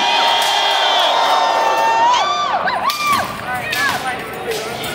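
A crowd cheers, whoops and shouts at a fan convention combat fight, with loud sustained whistles and shouting rising and falling across a dense, continuous roar of voices.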